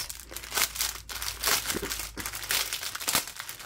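Sticker sheets from a diamond painting kit crinkle and rustle as they are handled, a steady close crackling of plastic and paper with several louder crumpling bursts, no voices.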